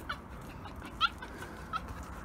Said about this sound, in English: cackling like a hen.